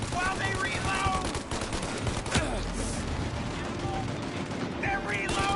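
Sustained gunfire from a shootout in the video game Mafia Definitive Edition, dense rapid volleys filling the whole stretch at steady loudness, with voices shouting over the shots.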